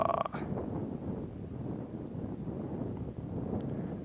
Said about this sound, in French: le vent se lève